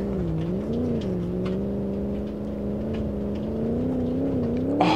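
A steady mid-pitched V8 engine drone from a Gavril Barstow 291 in BeamNG.drive holds for the whole stretch, rising and dipping slightly in pitch, loud and continuous with no voices.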